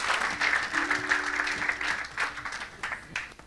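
A church congregation claps and cheers in praise during a healing service, with dense, sustained applause and a faint voice held under it.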